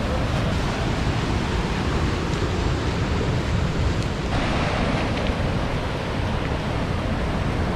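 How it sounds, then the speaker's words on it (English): Surf breaking on a beach near a headland on Stradbroke Island, heard as a steady, loud broadband wash of waves with wind buffeting the microphone and no pause throughout. "So it's still on the beach headland"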